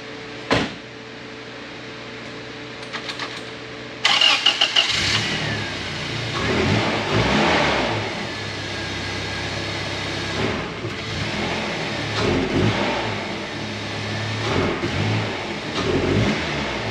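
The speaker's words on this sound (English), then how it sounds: "So let's pull this thing out of the garage, see how she runs." A Toyota pickup with a swapped 3RZ engine, replacing the original 22R, clatters briefly, then starts and settles into a steady mid-pitched running note with several rising revs, close and loud, with no talk.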